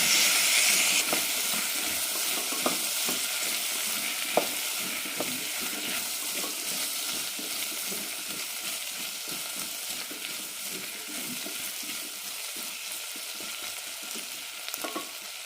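Brinjal (eggplant) sautés in a pan with a constant loud hiss and sizzle. Occasional soft scrapes of stirring sit under the hiss, close up and with no voices.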